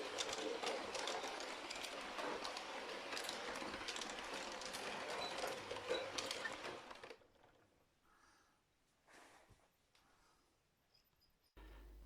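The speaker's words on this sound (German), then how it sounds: "Jetzt fahren wir mit der wunderschönen Lokomotive von vorne mit." A Playmobil toy steam locomotive pulling two passenger cars runs along its track with a busy whirring, clattering rattle. It then cuts off, leaving a quieter stretch with faint clicks.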